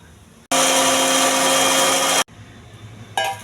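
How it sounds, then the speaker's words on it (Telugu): A mixer grinder whirs loudly as it blends washed grapes for juice, a harsh, steady motor roar lasting under two seconds before stopping abruptly, followed by a quieter clatter near the end. "మూత పెట్టి మిక్సీ వేసుకోవాలి."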